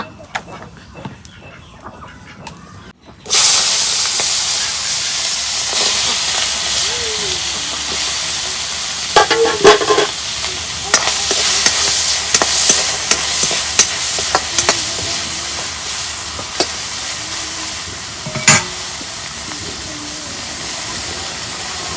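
Small taki fish sizzle and hiss loudly in hot oil in a wok, a broad steady frying crackle starting abruptly after a quiet moment, with occasional sharper spatters and clinks throughout.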